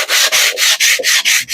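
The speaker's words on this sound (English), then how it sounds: "gently start rubbing down." Hand sanding a Range Rover L405 wing mirror cover with 240-grit paper, a close, loud, steady scratchy rasp in about seven regular back-and-forth strokes, each with a brief dip between.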